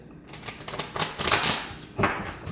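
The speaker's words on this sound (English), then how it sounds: "2 more shuffles." A deck of tarot cards is shuffled close by in quick crisp riffling bursts, loudest near the middle, with no talk.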